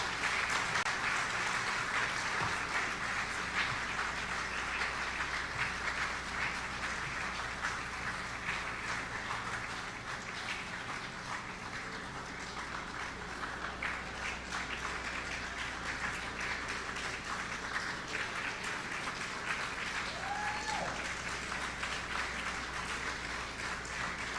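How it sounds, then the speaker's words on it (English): A large audience claps steadily at an opening ceremony of the Caribbean Broadcasting Union general assembly, greeting Team Antigua Island Girls; dense, continuous applause rolls on for about twenty-four seconds with no break. "a round of applause, please"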